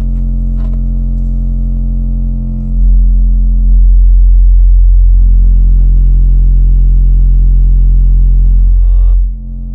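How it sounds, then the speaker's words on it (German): Loud, deep bass from an Auna 30cm 800W subwoofer driven by an amplifier with extra gain, playing a sustained low tone that swells louder after a few seconds, holds with a distorted, rumbling edge, then drops off near the end, with no talking. "Der Woofer ist jetzt nicht ganz so optimal, dass er mit meiner Endstufe Vollgas kriegt."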